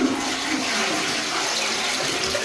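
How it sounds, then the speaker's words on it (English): An Ideal Standard toilet is flushed and gives a steady, full rush of water that stays loud and close throughout, with no voices present. "I'm just gonna flush it now."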